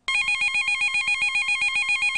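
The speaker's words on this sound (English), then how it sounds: "Then the phone rang." A telephone rings in a steady electronic trill, loud and close, repeating without pause and with no voices over it.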